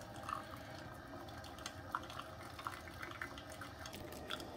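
A Technivorm Moccamaster KBG coffee maker runs Urnex Dezcal descaling solution through, giving a faint, steady trickle with scattered small drips and gurgles.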